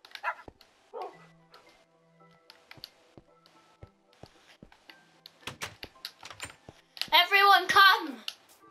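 Dogs in the video game Minecraft yip and bark in short scattered bursts, ending with a louder cluster of overlapping barks, with typing-like clicks and light game sounds around them.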